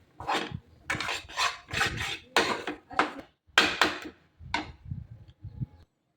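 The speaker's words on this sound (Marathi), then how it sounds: "इथे बेसन टाकलं बेसनला छानपैकी भाजून घेणार" Gram flour (besan) dry-roasting in a pan while a spatula stirs it, making repeated close, rasping scrapes in an uneven rhythm with short pauses between strokes.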